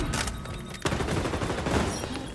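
Dense gunfire in the online shooter XDefiant, with rapid bursts of shots, a sharp loud onset partway through and continuous rattling fire after it, all at close range.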